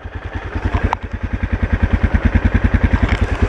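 A motorcycle engine idles close by with a fast, even, thumping pulse and a slight mechanical clatter.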